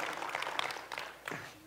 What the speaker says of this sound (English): Some of you were going, let us clap, let us clap.